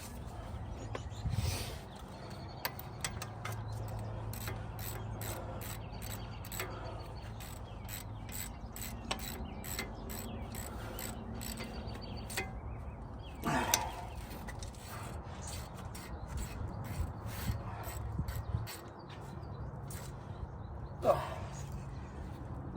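A ratchet tightens caliper bolts during a brake overhaul on a 2004 Chevy Trailblazer, giving long runs of rapid, close clicking pawl strokes with short pauses and occasional metallic knocks between them.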